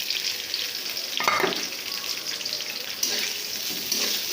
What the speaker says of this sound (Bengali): ভালো করে পেঁয়াজ মরিচটা ভেজে নেব।